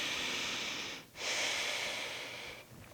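A slow breathing exercise: one long, steady airy inhale, a brief pause, then a long sustained exhale, close and alone with no talking.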